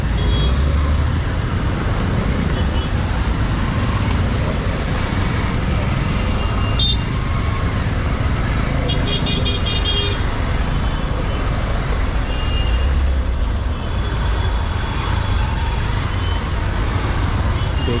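Trucks, buses and cars sit idling in a traffic jam on the Mumbai–Goa highway (NH-66), a dense, steady roadway rumble with scattered horns and occasional beeps, heard from close by, with voices talking now and then.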